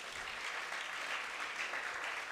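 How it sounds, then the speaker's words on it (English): Audience applause at a secondary school debate competition, a brief dense wash of clapping from a crowd, steady and moderately distant, with no clear speech over it. "you didn't give Mercy Odigie a round of applause"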